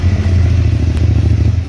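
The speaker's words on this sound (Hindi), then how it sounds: "इसका एग्जॉस्ट का साउंड देखेंगे कैसे चले स्टार्ट कर।" A Benelli motorcycle engine idles loudly up close, its exhaust putting out a rapid, throbbing low rumble with slight revving pulses.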